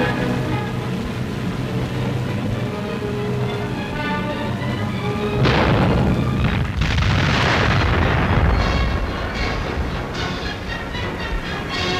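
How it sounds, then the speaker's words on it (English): A torpedo launched from a warship during an attack on Atlantic convoys, with a steady mechanical rumble giving way at about five seconds to a loud, sustained roaring blast that fills the rest of the clip. "Larga el torpedo."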